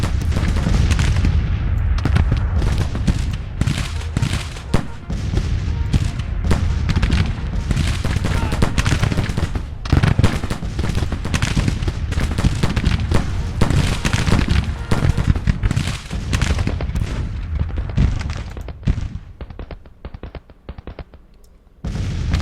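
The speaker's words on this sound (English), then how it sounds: "Let's make sure these heavy guns are shooting at his gun," Heavy Civil War artillery guns fire in a battle in the Grand Tactician strategy game, dense, loud booms and crackling volleys rolling almost continuously, easing off only near the end.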